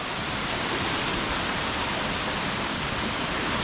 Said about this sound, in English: we're at the foot of the waterfall